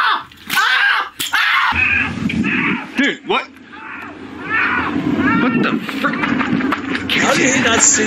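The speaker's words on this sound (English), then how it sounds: "Dude, why are you screaming?" A person screams loudly and repeatedly at a chaotic slumber party, loud shrieks overlapping with frantic talking and commotion nearby.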